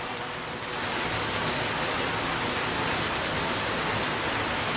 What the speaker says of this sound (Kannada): ಕರಾವಳಿಯಲ್ಲೂ ಮಳೆ ಅಬ್ಬರಿಸ್ತಾ ಇದೆ.